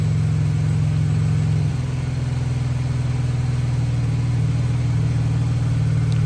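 A 2014 Dodge Charger SE with a 3.6-litre engine, fitted with new fuel injectors, runs steadily at idle close by, with a constant low hum and a slight shift in tone partway through and no voices.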